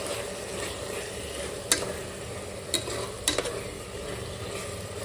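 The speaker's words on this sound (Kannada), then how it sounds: "ಅರಿಶಿನ ಹಾಕಿ ಮತ್ತು ಅದನ್ನು ಮಿಕ್ಸ್ ಮಾಡೋಣ" Turmeric is stirred into mutton keema frying in oil, with a steady sizzle and a few sharp scraping clicks from the spoon against the pan.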